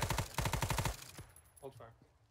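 Rapid automatic gunfire in Arma 3 S.O.G. Prairie Fire, two loud close bursts of evenly spaced shots, followed by quieter scattered reports and brief radio-style voices.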